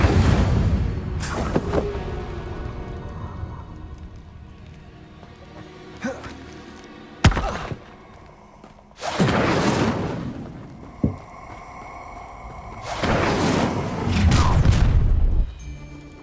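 Spell casts in the Hogwarts Legacy video game, heard as several loud bursts and whooshing blasts with booming low thuds, spaced a few seconds apart and separated by quieter ambient stretches.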